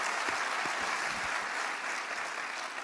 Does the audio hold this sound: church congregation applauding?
yes